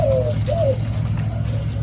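A pair of caged doves coos in a nest inside a cage, two low cooing calls in the first second, then softer, under a steady low hum.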